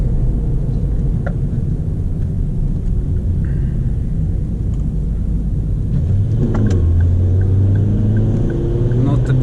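A new car's engine rumbles steadily while driving along a country road, then rises in pitch as it revs and accelerates near the end, with a voice talking over the drone.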